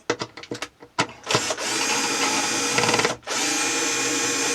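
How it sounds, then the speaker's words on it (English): A power drill drives a screw into a wall fixing, with a few short trigger bursts followed by a long, loud, steady whir that pauses briefly and then resumes at close range. "take the screw out a little bit and then drive it in"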